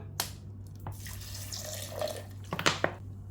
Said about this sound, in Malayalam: ഇനി ഇതിലേക്ക് നമുക്ക് കുറച്ച് വെള്ളം എടുത്തിട്ട് നല്ല ഫൈനായിട്ട് നിന്ന് അടിച്ചെടുക്കാം